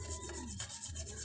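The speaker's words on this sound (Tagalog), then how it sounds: "Yan kuskusin natin to." Brisk back-and-forth scrubbing of a surface cleaned with oxalic acid and lemon, close and rhythmic, about six quick strokes with no voices.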